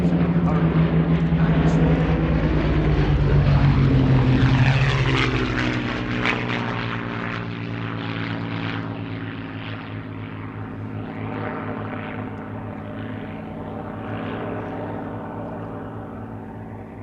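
A Gloster Gladiator propeller biplane passes overhead at an evening air display, its engine drone loud and rising to a peak early on, then fading steadily into a sustained distant hum.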